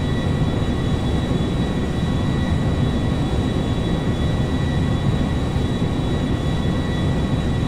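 Citilink airliner in GTA 5 spooling up for takeoff, a loud continuous jet engine roar with a steady rumble and faint whine, sustained without voices.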